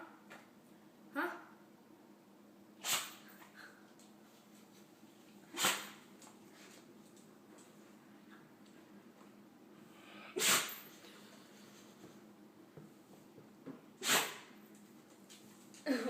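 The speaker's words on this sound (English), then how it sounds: "Why are you sneezing? What are you sneezing for?" Riley the dog sneezes repeatedly, five or six sharp bursts spaced a few seconds apart close to the microphone, with snuffly breathing between them.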